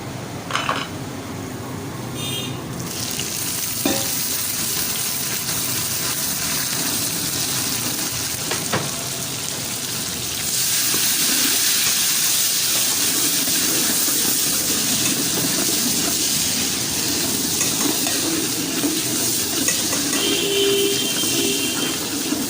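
Finely chopped tomatoes hitting golden brown onions in a hot pan give a steady, close sizzle and hiss that grows louder after about ten seconds and keeps frying evenly with no voices.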